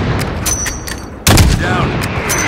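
Gunfire in the Call of Duty: Modern Warfare campaign, a sharp loud shot cutting through steady battlefield noise with scattered fainter reports around it.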